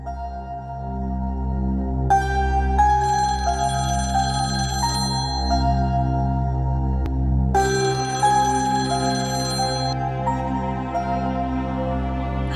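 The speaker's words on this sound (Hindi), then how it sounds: "फोन उठाओ किरण।" A telephone ringing loudly and continuously indoors, a repeating electronic ringtone melody over a steady low hum, with no voices.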